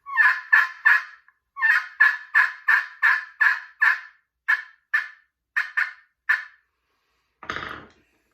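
Zink Power Hen pot turkey call played with a purple heart striker, giving a run of about fifteen sharp, evenly spaced yelps in quick rhythm, close and loud, followed by a brief raspy scratch at the end.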